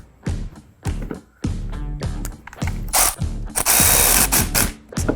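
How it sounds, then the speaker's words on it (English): A ratchet wrench tightens the nut on a battery terminal post of a 2021 or later Ford Bronco, giving several close bursts of rapid clicking, with a brief metallic clatter near the end. "we'll reinstall the nut."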